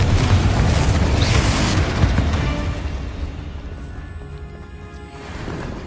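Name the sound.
spell explosion in video game Hogwarts Legacy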